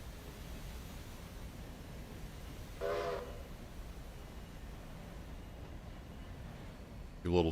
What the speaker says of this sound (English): A little toot in case there's anybody hanging around the rail yard.